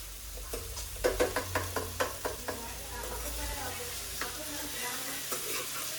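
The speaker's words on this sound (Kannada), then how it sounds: "ಆಲೂನ ಹಾಕಿ ಚೆನ್ನಾಗಿ ಫ್ರೈ ಮಾಡಿ" Potatoes frying in a pan are stirred with a spatula, giving a quick run of scraping knocks and then occasional taps over a soft, steady sizzle, fairly quiet and close.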